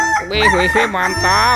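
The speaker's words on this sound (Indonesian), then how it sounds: "ayam berkokok." A toy rooster from a plastic surprise egg gives a short, bright electronic crow close up. Excited speech overlaps it.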